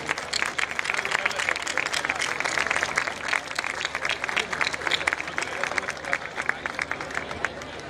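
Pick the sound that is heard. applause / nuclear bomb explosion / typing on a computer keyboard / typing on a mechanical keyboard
applause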